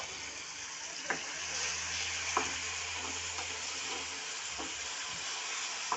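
Ingredients fry in a hot pan with a continuous close sizzle, broken by a few sharp scrapes and knocks as they are stirred at irregular intervals.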